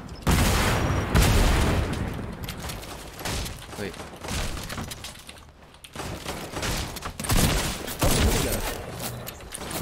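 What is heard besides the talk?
gunshots in Fortnite video game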